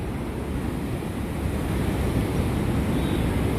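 Water rushes steadily over a weir on the Upper Ganga Canal at Bulandshahr, flowing into a channel that feeds a mill; a constant, close, broadband roar with no breaks and no voices.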